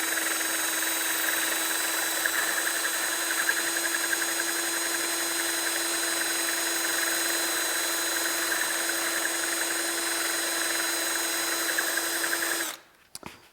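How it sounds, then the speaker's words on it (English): A wooden piece chucked in a drill spins against 220-grit sandpaper backed by soft foam, giving a steady, loud whirring drone with a grinding rasp for about twelve seconds before cutting off abruptly. "I just start with it chucked up in the drill, and I'm just going to pillow it on this 220 paper"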